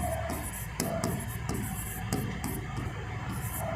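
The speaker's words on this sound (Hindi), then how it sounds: "देखो यहाँ पर लिख दे रहे हैं हम, इंटरकोस्टल मसल।" Writing on a board in a classroom lesson, with repeated quick scratchy strokes in short bursts, fairly faint against room noise.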